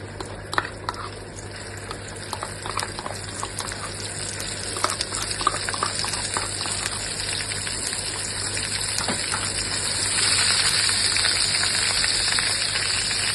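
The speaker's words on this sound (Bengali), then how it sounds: "তো আস্তে আস্তে করে আমরা মশলাটা একটুখানি কষিয়ে নেবো" A spice paste for a Bombay duck fish curry fries in a pan over a medium gas flame, giving a continuous crackling sizzle with scattered pops that grows louder toward the end.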